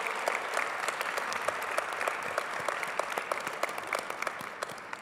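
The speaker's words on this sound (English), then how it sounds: "give them a round of applause" A graduation event audience claps in a steady, dense round of applause, many hands close and continuous throughout.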